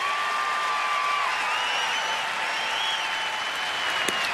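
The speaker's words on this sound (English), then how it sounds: "Crowd on their feet." Baseball crowd at a Marlins–Nationals game on their feet cheering, a steady roar of applause and shouts from a large stadium audience, with whistles rising above it and a sharp crack near the end.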